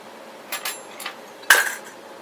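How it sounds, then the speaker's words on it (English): A spoon stirring a seasoned chicken ranch salad mixture in a bowl, giving a few light clinks and scrapes against the dish, ending with one sharper knock. "And then I'm going to give it a good mix with a spoon."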